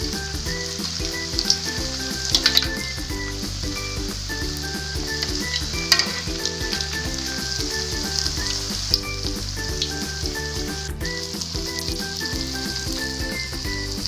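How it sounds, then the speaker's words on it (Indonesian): Spinach chips frying in hot oil, a loud, continuous crackling sizzle with occasional sharper pops, heard alone over light background music. "Lalu goreng hingga kecoklatan."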